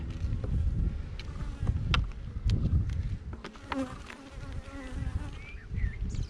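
Honey bees buzzing around an open hive during a full inspection, a dense droning hum with individual bees zipping close past the microphone, some wind rumble, no talk.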